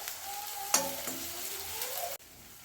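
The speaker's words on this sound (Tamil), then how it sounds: "இந்த வெங்காயத்தை நம்ம அதில் சேர்த்துருவோம். இது நல்லா வதங்கட்டும்." Sliced onion sizzles and fries in hot oil in a pan for Chettinad egg gravy, with a sharp stirring clatter partway through and a steady crackle until it cuts off abruptly.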